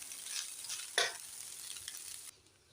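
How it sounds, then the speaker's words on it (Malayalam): Cooked rice is stirred into a pan with urad dal for yogurt rice, giving faint, soft scraping and sizzling strokes with one sharper scrape, before the sound drops away quieter. "അതിലേക്ക് ചോറിട്ട് നന്നായിട്ട് ഇളക്കുക."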